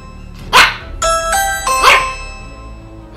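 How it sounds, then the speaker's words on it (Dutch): A dog in a video game barks loudly at a doorbell, with two sharp barks framing a ringing ding-dong chime of sustained tones in between. "En mijn hond begint dat te blaffen."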